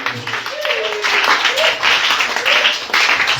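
A church congregation applauds and cheers at a Sunday service, a dense wash of clapping and shouting that swells and carries on while a voice speaks over it.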